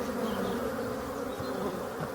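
Black bees pour out of a hive in early March, a dense, continuous buzzing swarm, loud and close, that holds steady throughout.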